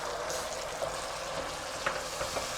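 Tomatoes go into garlic-ginger paste frying in a pan for a potato egg curry, giving a steady close sizzle with light stirring scrapes and no voices.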